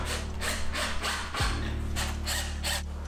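A power drill drives heavy-duty screws into aluminum beam joints of a camper wall, giving a loud, steady whirring grind with rhythmic surges, and a brief pitch drop midway as the screw seats before the motor spins up again.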